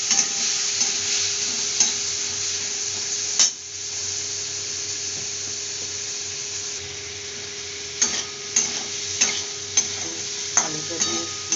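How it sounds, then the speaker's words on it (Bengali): Turmeric and chili powder with potatoes sauté in a wok (kadai) with a splash of water, making a loud, continuous sizzle broken by sharp scraping stir strokes at irregular intervals, with no talk. "মশলাটা কষে নেব।"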